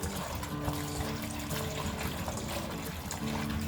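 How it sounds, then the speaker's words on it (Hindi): Chopped radish pieces washed in a bowl of water, a continuous close splashing and trickling wash of water with steady loudness and no speech. "इसे अब हम ये बाउल के ऊपर रखेंगे और इसे 2-3 बार अच्छी तरह से धो लेंगे।"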